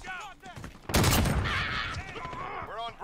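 Shotgun fire in Call of Duty: Modern Warfare during online play, one loud, dense blast with a long ringing tail, heard amid game effects and a talking player.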